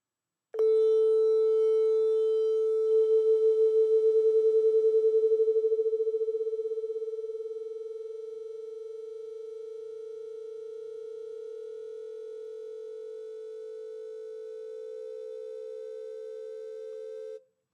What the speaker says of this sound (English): as they slowly change the frequency, you hear this kind of flutter or the beating sound